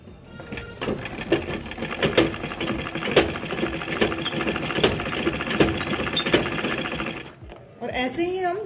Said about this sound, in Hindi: इसी लाइन जो हमने खींची थी हम इसको हम ऐसे फोल्ड करते हुए यहाँ पे इस पर सीधी सिलाई लगाते जाएंगे, इसी लाइन के ऊपर लगाएंगे हम सीधा